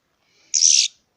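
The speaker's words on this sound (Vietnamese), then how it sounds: "Đây, con chim khá là to" A trapped wild bird, caught in a forest trap, gives one short, bright, harsh call lasting about a third of a second, close and clear against silence.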